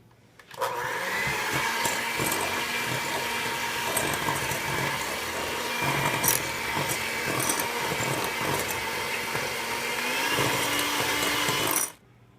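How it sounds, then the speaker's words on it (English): An electric mixer creams butter for cookie dough at medium to medium-high speed, giving a steady close motor whine that starts abruptly, runs unbroken for about eleven seconds with slight pitch shifts, then cuts off. "using your electric mixer, cream them together on medium-high or medium speed for 5 minutes until they are incorporated completely"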